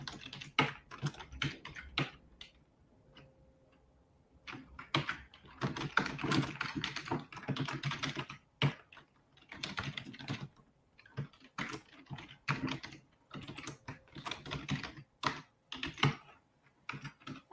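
Fingers tap out information into a website sign-up form on a computer keyboard, producing close, crisp keystrokes in bursts of rapid clicks separated by short quiet gaps, with no talking.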